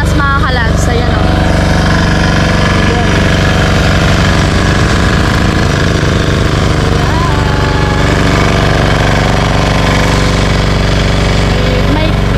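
A portable generator drones steadily at a house construction site where flooring work is under way, a loud continuous engine hum throughout with faint voices now and then.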